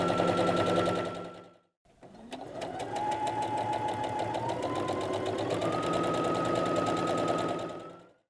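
A sewing machine topstitches a grocery tote, running in close, rapid mechanical bursts; a short run stops, there is a brief pause, then a longer steady stretch of stitching with a rising whine.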